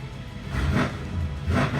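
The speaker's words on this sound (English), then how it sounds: "A little rev." A wrecked 800hp Mercedes-AMG engine that hasn't run in a year and a half gets two sharp revs over a rough, rumbling idle, each burst swelling loud and close before dropping back.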